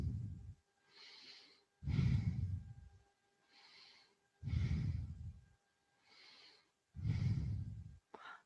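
Slow, deep yoga breathing alternates between long, airy inhales and heavier, throaty exhales in a steady rhythm, close and clear with no talking.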